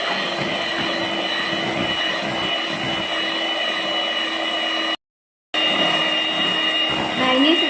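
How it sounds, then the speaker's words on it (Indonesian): Electric hand mixer running steadily at low speed while whisking cake batter for a soft pan-baked mini sponge cake, a continuous close whirring hum that breaks off briefly and then resumes. "Lanjut kita mixer dengan speed rendah supaya tercampur merata aja ya."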